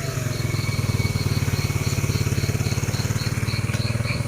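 A motorcycle engine idles steadily at night in a village, a close, even chugging putter that keeps a fast regular pulse throughout, with no talking over it.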